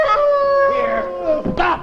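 A man imitates a wolf howling at the full moon: one long, sustained vocal howl, loud and close, wavering slightly before breaking into a short yelp at the end.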